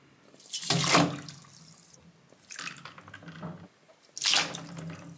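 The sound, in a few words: graphics card parts soaking in water with baking soda and vinegar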